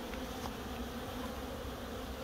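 Honeybees at the hive on a hot summer day, a dense continuous buzzing drone close to the listener, steady throughout with no talk.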